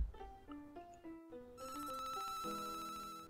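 A radio gives off an electronic ringing signal, a quick run of stepped beeping tones that rises into a sustained, layered chiming burst, faint and close with no talking.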